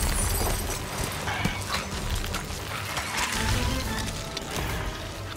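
Ancient skeletons in a video game make a dense, continuous rattling and clattering din with scattered sharp clacks, loud and steady throughout with no talk.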